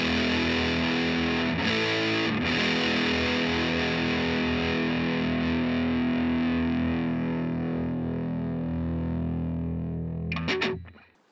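An electric guitar played through a drive pedal set as a boost rings out as one sustained, loud chord with a fuller, slightly driven edge, fading before a short final strum.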